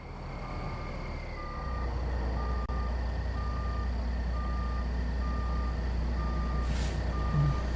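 Reversing beeps from a Peterbilt cabover truck in American Truck Simulator, a steady run of evenly spaced beeps over a constant low diesel engine rumble, with a brief air-brake hiss near the end.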